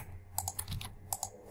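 Close computer keystrokes tapping in small irregular bursts on a keyboard while entering data, crisp clicks with brief gaps between them and no talk.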